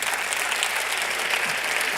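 Audience applause fills a hall at an energy-themed evening event, a dense, even burst of clapping from many hands lasting a couple of seconds with no talk over it.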